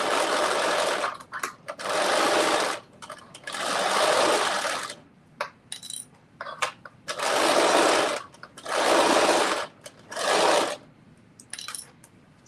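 A sewing machine runs a basting stitch in bursts, with about six loud, close runs of rapid whirring separated by short pauses filled with small clicks and handling noises.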